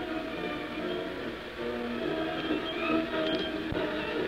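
A freight train rumbles along steadily, its dense low roar and rattling wheels filling the whole stretch at an even, fairly loud level, with no voices.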